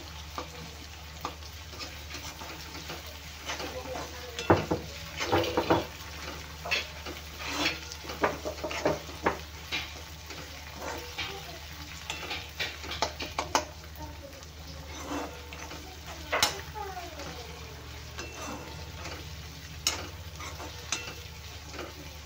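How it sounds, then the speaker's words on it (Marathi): Tomatoes frying in oil in a pan for a dhaba-style egg keema masala, with a steady low sizzle under scattered stirring scrapes and clinks of a spoon against the pan, close and moderately loud. "टोमॅटो पण छान तेलामध्ये भाजून घ्यायचं आहे आपल्याला गाळ होईपर्यंत"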